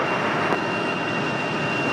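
A plane near Raleigh Durham International Airport roars steadily in a broad, even engine rush, loud and sustained with no breaks over the short stretch.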